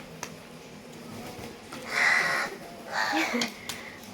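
Crows being fed near an outdoor earthen stove caw twice, a few moments apart, at moderate distance over a faint background hiss.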